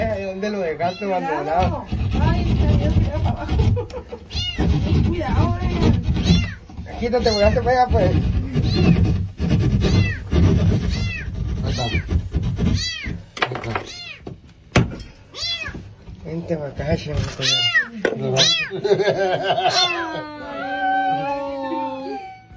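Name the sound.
cat meowing while stuck inside a wall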